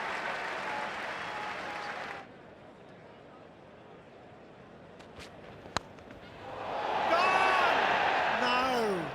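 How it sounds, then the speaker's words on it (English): Cricket crowd at an Ashes Test in Australia bursting into applause, a loud wash of clapping that cuts off, leaving a quieter murmur with a sharp knock, then roaring and clapping again while a commentator talks over it. "Crowd roared"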